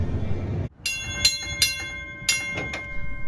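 Vintage streetcar running on rails in Kenosha, a low rumbling roll broken by several ringing metallic clangs and wheel squeals at irregular intervals, fairly close.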